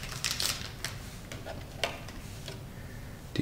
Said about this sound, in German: so wird hier die SIM-Karte eingeschoben, bis Sie ein kleines Klacken hören, dass die Karte eingerastet ist.